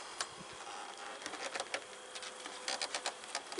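Honey bees buzz steadily up close at a hive, with a dense hum broken by brief louder passes and flutters; no voices are heard.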